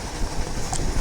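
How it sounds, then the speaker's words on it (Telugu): A passenger train rolls along the rails with a loud, close, continuous rumble and rattle of carriages heard from on board. "ట్రైన్ వెళ్తున్నప్పుడు ఆ సౌండ్ అయితే చూడండి"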